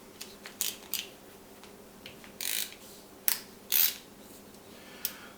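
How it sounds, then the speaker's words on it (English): Screws being tightened during the build of a Prusa MK4 3D printer, heard as scattered close, quiet clicks and short ratcheting rasps with pauses between them, no voices. "So they want us to actually do a little bit more tightening on them."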